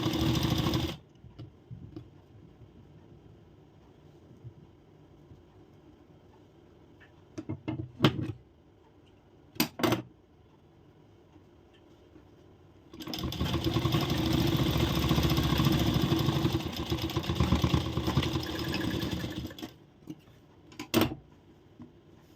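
Following a quiet stretch with a few sharp clicks, a sewing machine hums loudly for several seconds, stitching a strip on a princess-cut blouse, then stops; one more click follows.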